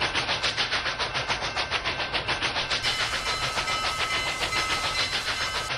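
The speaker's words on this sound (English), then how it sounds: "And here comes that train, a little bit that fast." A Union Pacific model train, Challenger or 844 locomotive, runs on RO-scale rails with a steady rhythmic clatter and hiss, close and loud, repeating evenly throughout with no voices.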